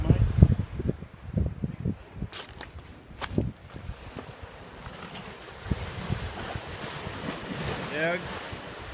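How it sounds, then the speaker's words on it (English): Ocean waves from the Great Southern Ocean in Spencer Gulf wash and rumble in the distance under heavy wind buffeting on the microphone, with faint voices now and then. "That's the Great Southern Ocean down there."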